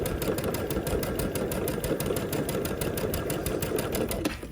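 A sewing machine stitches quilt pieces for a Tula Pink butterfly quilt, a steady rapid mechanical clatter of needle strokes running close and evenly before stopping at the end.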